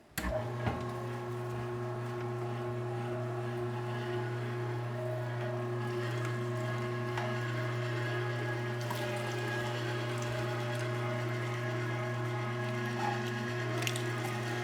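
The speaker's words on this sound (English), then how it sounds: "we're going to grind this up" Electric meat grinder working through a 23-pound batch of cured meat mixed with salt and cure, a steady loud motor hum with clicking, ratcheting mechanical noise throughout and no talk.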